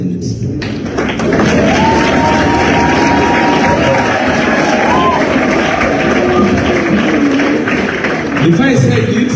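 A large outdoor crowd at a political rally claps and cheers for the president, a loud, continuous wash of applause that holds steady for several seconds, with voices mixed into the roar.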